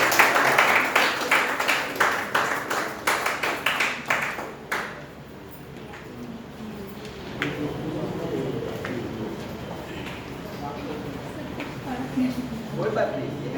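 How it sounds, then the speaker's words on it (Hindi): Audience at a stage event clapping to welcome a performer, a burst of rhythmic, fairly loud claps in the opening seconds that fades into murmuring crowd and talking voices. "जोरदार तालियों से इनका स्वागत कीजिए"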